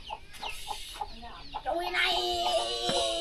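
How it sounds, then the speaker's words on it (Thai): Chickens cluck loudly and close by in a rural Thai village farmyard, with a busy run of short, overlapping clucks and calls that swells into a steady, dense chorus. "โอ้ไก่หลายเนาะ"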